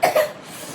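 A single short, sharp cough from a child up close, set off by fish-frying fumes, trailing off into quiet room noise.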